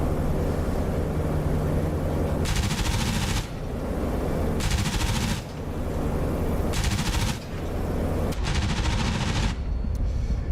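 Bursts of machine gun fire from a Fw 190 Anton strafing in a DCS World War II flight game, four or five loud rapid volleys separated by gaps, over a constant aircraft engine drone.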